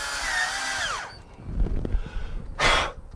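A power drill drives the top railing screw into the aluminum frame of a large Clearview sliding door, a loud steady whine for about a second, followed by clattering handling noise and a second short burst of drilling.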